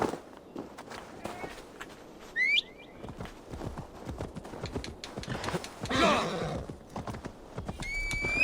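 A horse in the video game Assassin's Creed Valhalla clip-clops along at a quick pace, letting out short whinnying neighs among the hoofbeats, with other game sounds and bits of voice in the mix.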